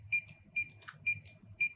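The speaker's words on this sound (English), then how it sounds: "The keypad has beeped twice, indicating that this code is now programmed to channel 2 under the keypad." A USAutomatic wireless gate opener keypad sounds four crisp, evenly spaced electronic beeps, with faint clicks of keys being pressed in between, close and clear over a low hum.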